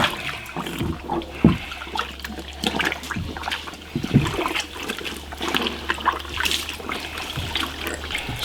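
Beef tripe being washed by hand in river water, with close, irregular splashes, sloshing and trickling that come and go in uneven bursts over a low, steady flow.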